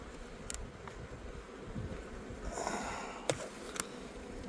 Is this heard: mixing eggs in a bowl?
no